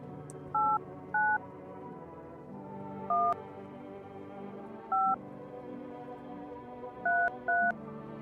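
Touch-tone telephone dialing from the No, I'm Not a Human video game: seven crisp, evenly pitched DTMF beeps in short irregular bursts, clear and up front over a low steady background hum.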